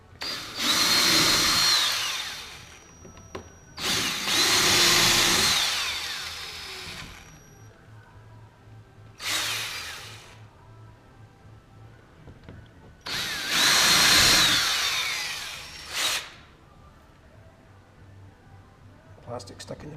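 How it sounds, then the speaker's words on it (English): A power drill bores a hole through a plastic Pescador pilot hatch on a boat, coming in several loud whirring bursts of a few seconds each with quieter handling noises and pauses in between. "drill the hole out"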